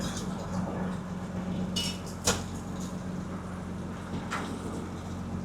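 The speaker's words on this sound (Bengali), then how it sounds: "এদিকটা হচ্ছে কিচেন এরিয়া, কিচেন স্টাফেরা সব কিচেনে রান্না করছে" Kitchen staff cook aboard a Kerala houseboat, with sporadic clinks and clatters of dishes and utensils, including one sharp knock, over a steady low hum.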